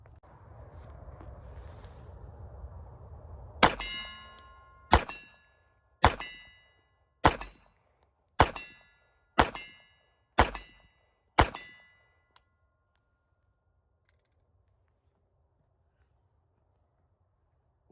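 Eight sharp metallic rings from steel targets struck by .32 ACP Beretta pistol rounds at a range, evenly spaced about a second apart and each decaying quickly, after a low rumbling background fades out.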